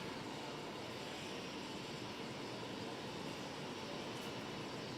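A SpaceX Falcon 9 rocket roars as it climbs through max Q on a Starlink launch, a steady, broad, distant rumble that holds constant throughout with no talking.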